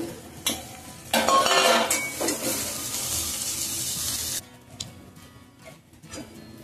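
Cowpea vegetable being mixed in a pan: spoon clinks and scrapes against metal over a soft sizzle, a louder burst of stirring early on, then quieter occasional taps.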